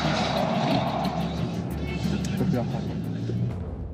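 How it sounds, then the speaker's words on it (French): A car roars past at speed, its engine swelling loud and close before fading, with a voice talking over it. "une voiture déboule à vive allure"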